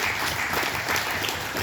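Applause for a high school football player at an end-of-season banquet: a dense, steady round of clapping from a roomful of people, loud and close, with no talking.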